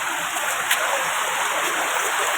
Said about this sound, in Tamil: இப்படி தாங்க எங்கே பார்த்தாலும் தண்ணி போயிட்டே தான் இருக்கு.